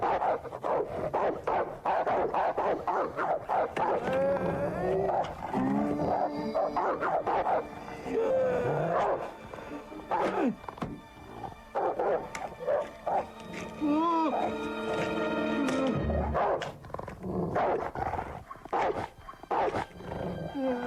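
A Rottweiler barks and growls up close in a racing video game, with repeated rough barks and snarls mixed with yelps, breaking through ongoing talk across about twenty seconds.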